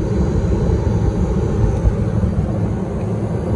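A walk-in freezer motor runs loudly throughout as a dense, steady mechanical roar and hum with no breaks or changes in level.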